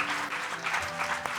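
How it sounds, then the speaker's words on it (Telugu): A church congregation claps during a sermon, a brief burst of dense, moderately loud applause that carries evenly from start to end. "గట్టిగా చప్పట్లు కొడదాం"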